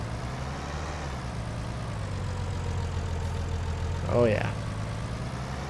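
Tractor engine idling in Farming Simulator 19, a steady low diesel rumble that holds throughout, with a brief spoken remark near the end.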